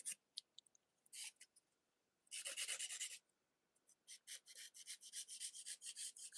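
A nail file rasps against a fingernail in short scratchy strokes, a few sparse ones first, then a longer burst, then a quick rhythmic run of close, crisp filing strokes.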